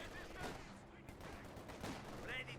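An MG34 machine gun in Company of Heroes 2 fires from a flank position during a battle. Faint, rapid bursts sit under a commentator's voice and the background noise of the match.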